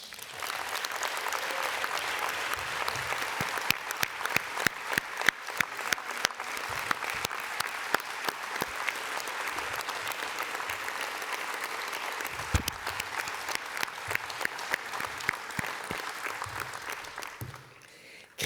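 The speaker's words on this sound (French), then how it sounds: "Je vous demande un applaudissement." Delegates at a CFDT-Services union congress applaud, a long spread-out round of clapping where individual sharp claps stand out, holding steady before stopping abruptly at the end.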